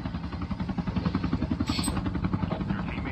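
A helicopter arriving in Call of Duty Mobile gameplay, its steady rhythmic rotor thumping loud and continuous throughout with a brief high whine partway through.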